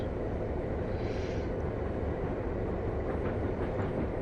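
A Montana Rail Link EMD GP9 locomotive train rolls along the rails with a steady, loud, continuous rumble and faint clickety-clack rhythm of wheels over the track joints.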